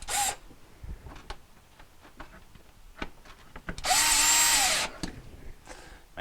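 A power drill drives screws back into a Samsung refrigerator panel during a not-cooling repair, with short whirring bursts, one longer close and loud spin, and scattered clicks and handling knocks between them.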